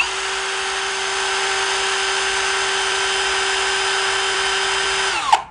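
A Ronix 8905K 20V cordless hammer drill runs at steady high speed with a clear, whining motor tone for about five seconds, then spins down quickly when released.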